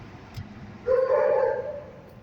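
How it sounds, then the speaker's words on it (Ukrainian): A single drawn-out dog bark or yelp rises over rumbling road noise, fairly close and loud. "Ось пес."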